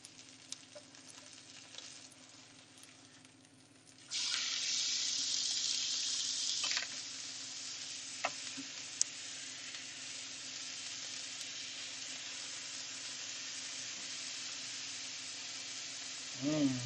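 Pork and apple burger patties frying in a pan give off a steady, crackling sizzle that surges into a louder hiss for a few seconds before settling back to an even spit.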